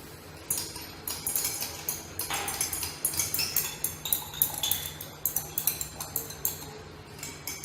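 Vigorous stirring in a laboratory vessel while sodium nitrite solution is added to cold aniline solution produces rapid, regular clinks and taps of glass, about two per second, close and steady with no talking.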